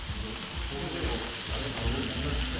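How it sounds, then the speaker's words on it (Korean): Frozen pork belly sizzles steadily on a hot grill over foil, a continuous crackling hiss with faint stirring noises, close up and fairly quiet. "지글지글 익어가는 소리가 너무 좋네요"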